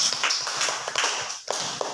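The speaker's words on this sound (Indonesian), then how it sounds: "berikan tepuk tangan untuk ketiga" A group of third-grade pupils in a classroom clap for classmates, a short burst of quick, uneven hand claps at close range with no talking.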